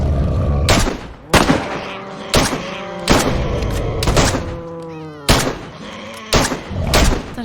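Gunfire in a video game played by a group aiming at large creatures, about eight sharp booming shots at irregular intervals, loud and close, each trailing into a ringing tail.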